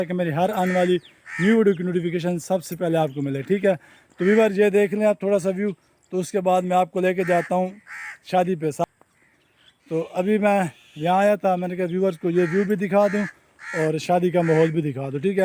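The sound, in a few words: crows cawing in a village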